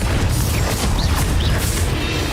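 Confringo fire spell blast in Hogwarts Legacy, a loud booming burst with crackling pops and sharp whooshes over a dense rumble.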